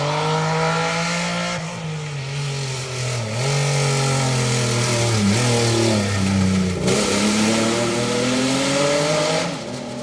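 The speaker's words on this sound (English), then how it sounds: "it is a very loud sounding Volkswagen Golf of Steve Hollis and Tim Curry" A very loud Volkswagen Golf rally car accelerates along a closed forest stage, its harsh exhaust snarl climbing and dropping through several gear changes, close and sustained for the full ten seconds with no talking.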